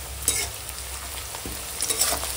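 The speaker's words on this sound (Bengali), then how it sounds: "আর এখন দিয়ে দেবো কাঁচা লঙ্কা কুচি আর পেঁয়াজ কুচানো দিয়ে একসঙ্গে ভেজে" Chopped onion and green chili fry in hot oil with whole cumin and bay leaf tempering, making a constant close sizzle with light stirring clicks and no talk.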